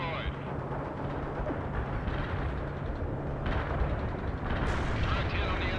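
An artillery barrage in the video game World in Conflict rolls on as a sustained, heavy roar of overlapping explosions and gunfire, loud throughout, with voices partly audible under the din.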